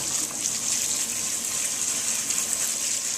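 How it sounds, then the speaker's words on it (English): A kitchen sink sprayer rinses soaked beans with a steady, hissing spray of water, close and continuous throughout, with no talking. "now I'm going to rinse them good with a sprayer"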